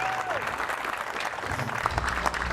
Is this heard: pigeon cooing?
no